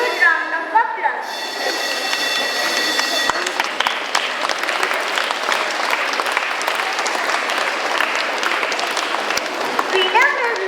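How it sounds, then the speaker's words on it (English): An audience at an Independence Day celebration claps for a student speaker, a dense, sustained wash of applause that stays loud across the whole stretch. "Give him a huge round of applause"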